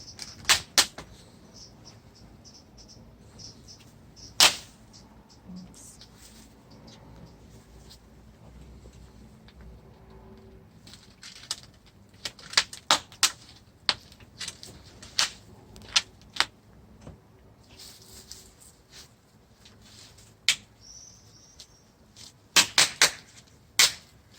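A plastic nursery pot being cut apart with scissors to free a badly root-bound plant: scattered sharp snips and plastic cracks, sparse at first then clustering more densely later, close and fairly crisp in a quiet setting.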